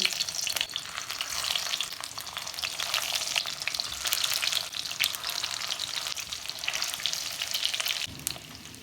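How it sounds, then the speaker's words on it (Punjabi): Stuffed bitter gourds (bharwa karela) fry in oil in a pan over a low gas flame, giving a steady, dense, close sizzle and crackle with slight stirring movement throughout. "ਹੁਣ ਅਸੀਂ ਕਰੇਲੇ ਜਿਹੜੇ ਹਨ ਸਾਰੇ ਇਸੇ ਤਰ੍ਹਾਂ ਪਾ ਦੇਣੇ ਹਨ ਵਿੱਚ"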